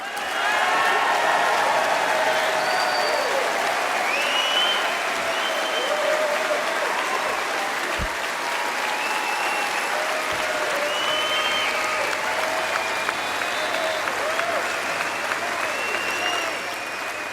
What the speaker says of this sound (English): Jeremy Corbyn getting applauded as they all rise to his feet as he comes to an end